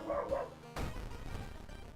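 A dog in the video game World of Horror barks and yips in short bursts, with a harsh crash-like hit partway through before a sustained noisy tail.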